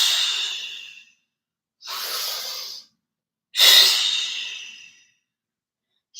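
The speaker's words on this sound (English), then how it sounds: "Really press the breath out." Three forceful exhaled breaths during a yoga flow, each a long breathy rush that fades out, separated by silent pauses, close and clear with no talking.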